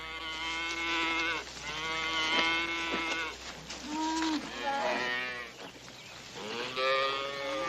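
A cattle herd moos repeatedly at close range, with several long, overlapping lowing calls one after another over a steady low background.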